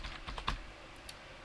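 Plus and minus keys tapped on a computer keyboard to resize text in Tabletop Simulator: a quick run of about five close, crisp key clicks, then near silence with one faint click late on.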